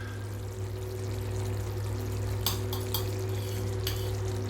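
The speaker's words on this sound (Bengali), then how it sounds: "দেখুন একটু ঘি দিলাম।" Ghee poured into a pan while making bhindi do pyaza: a steady low hum with a soft sizzle and pouring hiss, broken by a few brief clinks of a utensil against the pan.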